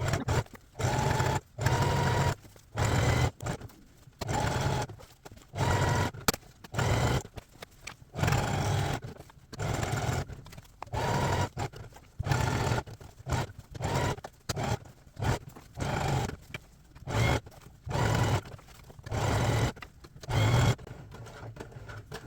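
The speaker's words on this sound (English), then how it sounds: "get that on the sewing machine" A sewing machine stitches fabric for a hockey jersey, running in repeated bursts, starting and stopping in short rhythmic runs with brief pauses between, close and fairly loud.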